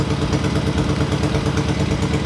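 Subaru Impreza engine idling steadily after being revived, a loud, even, low rumble with a slight clattery edge, close by and alone with no talk over it.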